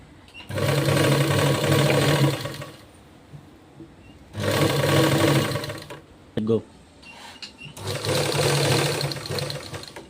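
A sewing machine stitches a drop neckline in three loud, close bursts of fast whirring separated by quiet gaps, with a brief clunk in between.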